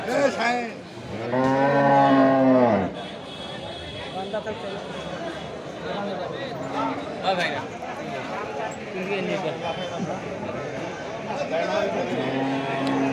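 Cattle at a livestock market where bulls and cows are sold for meat, with one loud, drawn-out moo at the start, then steady crowd noise and people talking throughout.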